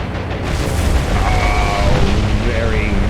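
Aircraft bombs explode on target in the naval war game War on the Sea at Guadalcanal, heard as a dense, loud, continuous rumble of blasts and booms with tonal in-game effects above it and a voice talking over the din.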